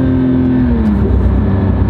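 A car accelerates on a road, its loud engine droning steadily from inside the cabin, with the engine tone sliding down as it shifts.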